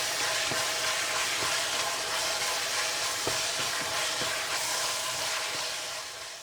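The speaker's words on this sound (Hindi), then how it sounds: "साबुत कुटा धनिया और कसूरी मेथी डालकर तेज़ आंच पर अच्छी तरह से भून लें" Minced keema sizzling and frying over a high flame with turmeric, red chili powder, crushed coriander and dried fenugreek, a steady broadband hiss with faint stirring clicks throughout.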